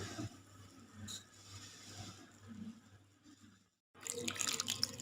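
Water running from a tap or being poured into dry flour and yeast for a dabeli dough, a steady close splashing stream that breaks off briefly and resumes.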